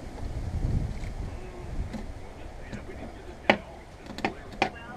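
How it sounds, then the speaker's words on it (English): Gusting wind buffets the microphone with low rumbling bursts, joined later by a few sharp knocks or clicks. "But that wind is so bad, and it's very windy here."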